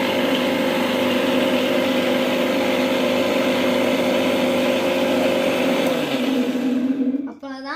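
A kitchen mixer grinder blends homemade ice cream mixture for a stick-style popsicle in its jar, a loud continuous motor drone that winds down and stops just before the end.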